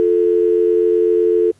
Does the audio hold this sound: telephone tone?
yes